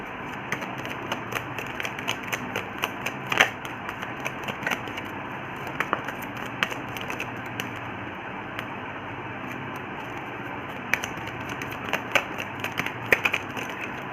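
Tarot cards being shuffled by hand, a rapid run of soft riffling clicks and taps that keeps a steady, close, moderately quiet pace throughout, with no voice over it.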